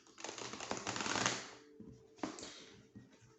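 A deck of oracle cards being shuffled by hand, close and crisp, with a long riffling burst followed by a shorter second shuffle, then quiet.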